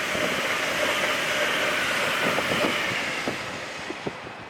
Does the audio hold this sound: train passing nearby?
yes